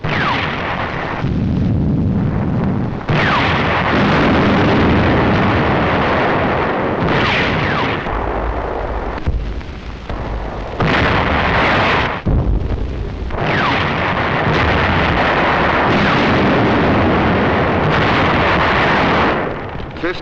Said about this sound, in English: November the 25th, the first real tank clash.